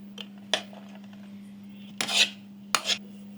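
Cooked rice being served onto a plate with a metal spoon, several distinct scraping clinks of utensil against plate spread out over a few seconds, close and quiet over a steady low electrical hum.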